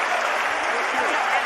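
Audience applause at a live Chhattisgarh radio show event, a dense continuous clapping burst of a crowd, loud and close, with a voice faintly underneath.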